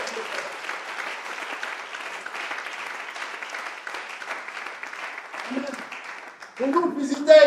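Sustained applause from a church congregation, an even patter of clapping that runs for several seconds before a voice rises over it near the end.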